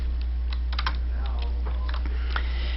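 Rapid clicking keystrokes on a computer keyboard, a short close burst of uneven taps.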